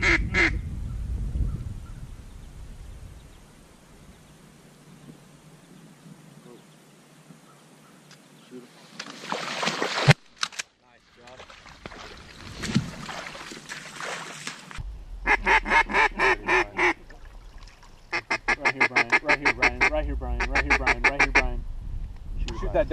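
Ducks quacking on a public-land duck hunt: repeated rapid honking quacks, loud and near in the later part, mixed with wind noise, handling bumps and people talking.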